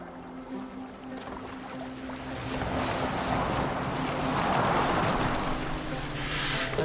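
A boat moves across open water in the game Assassin's Creed Valhalla, with steady wash, wind and surf that swell slightly louder midway and hold a continuous level throughout, with no talk over it.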